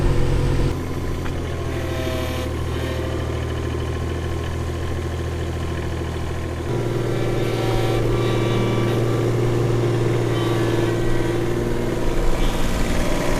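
A mini excavator engine runs steadily while digging in a family DIY water line install, a loud continuous low drone that steps up in level partway through, with no talk.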